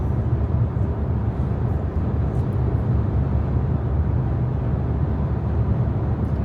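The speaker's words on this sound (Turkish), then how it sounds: "Arabadaki rüzgar sesine bakın." Steady low roar of wind and road noise fills the cabin of a Jeep Compass cruising at about 110 km/h on a highway, a constant dull rumble with no talking.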